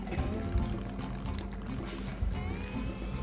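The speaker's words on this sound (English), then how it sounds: "For spirit, I'm gonna use cachaça." Cachaça pours steadily into a cocktail glass for a Watermelon Caipirinha, a continuous close liquid stream with small splashes and no talking.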